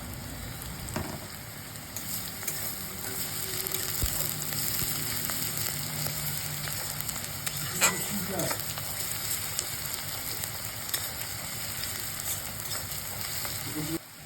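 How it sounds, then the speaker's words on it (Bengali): Onions, green chilli and garlic paste sizzle steadily in hot oil, a continuous close frying hiss with occasional scrape and clatter of a spatula stirring, no voices. "সব কিছু হালকা ভেজে নিয়ে"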